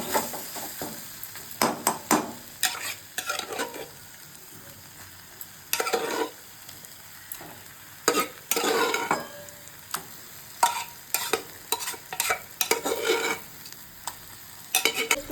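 Boiled vegetables for pav bhaji stirred into a frying masala in a pan, a soft steady sizzle broken by repeated bursts of scraping and clattering stirs, close by with no talk.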